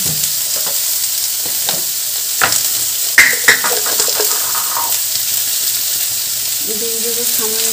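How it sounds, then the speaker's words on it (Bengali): Ridge gourd and potato pieces fry in a pan under a constant sizzle, with a few clacks and scrapes of stirring in the middle and a soft tonal hum near the end. "ঝিঙে আলুটা দিয়ে হালকা হাতে নাড়াচাড়া করতে হবে"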